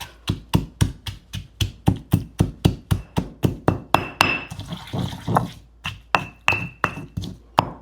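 Steady, rhythmic pounding of ginger and green onion for a coarse village-style anardana chutney, loud close thuds about three per second with a brief scraping pause midway before the beating resumes.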